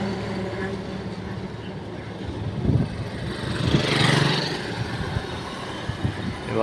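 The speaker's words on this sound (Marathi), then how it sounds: "चाललेला आहे बघा पाण्यात ट्रॅक्टर." A tractor drives through water, with a steady engine rumble and a splashing, rushing swell that builds midway. Background noise runs throughout and the tractor stays close.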